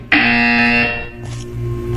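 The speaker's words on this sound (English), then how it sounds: "When you hear the buzzer, look up at the ceiling." A loud harsh electronic buzzer in the video game Portal 2 blares for about a second, then cuts off, leaving a low background hum.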